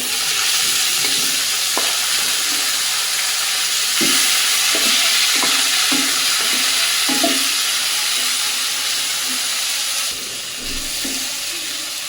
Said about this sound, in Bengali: শাকটা ভালোভাবে ভেজে নিলাম,